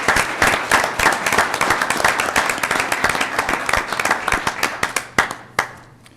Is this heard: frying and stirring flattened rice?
no